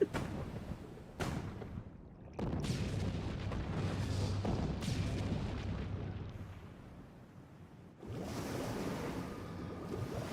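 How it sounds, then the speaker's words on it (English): Warning shots fired in FFXIV, deep booming blasts that rumble out over a roaring, surf-like background, several heavy reports spaced across the stretch. "He's out here firing warning shots."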